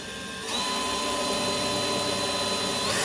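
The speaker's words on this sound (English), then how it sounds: "Jordan's now going to drill a couple of holes" A power drill whines steadily as it bores holes in a fibreglass bonnet on a classic Mini, starting up half a second in and running loud and continuous at close range.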